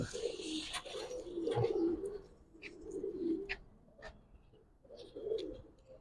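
Pigeons coo in a loft holding Giribaz and Jabra pigeon breeds, low soft coos rising and falling in repeated phrases alongside occasional sharper chirps and rustles, fairly close, no talking.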